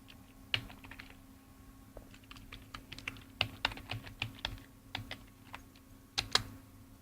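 Rapid, uneven keystrokes on a computer keyboard as a Google search is typed, close and crisp over a low steady hum, with no talking.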